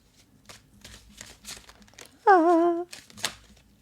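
Soft, papery tarot-card shuffling rustles come in short bursts near the microphone, interrupted by a brief sung or exclaimed vocal sound midway.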